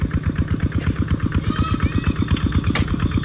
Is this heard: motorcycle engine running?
yes